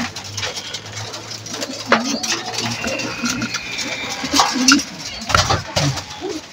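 Pigeons coo softly in repeated low, throaty calls, with scattered clatter and faint background voices.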